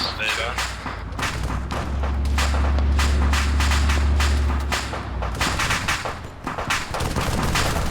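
Heavy sustained gunfire in the sci-fi video game Starfall as a machine gun shoots at a radar, loud and continuous with rapid repeated reports over a deep rumbling low end.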